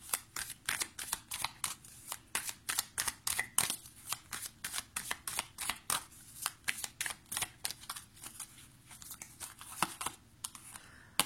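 Tarot cards being shuffled by hand in rapid, repeated bursts of crisp riffling and flicking, close and clear, with short pauses between rounds and no talk.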